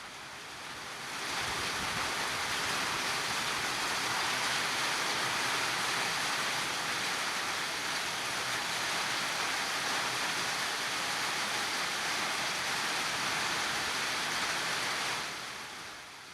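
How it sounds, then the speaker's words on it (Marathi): Steady unseasonal rain pours over Baglan taluka in Nashik, a dense, even hiss that swells in within the first second or two and holds continuously at a constant level before easing slightly at the end, with no voices. "नाशिकच्या बागलाण तालुक्यात दुसऱ्या दिवशी सुद्धा अवकाळी पावसानं हजेरी लावली"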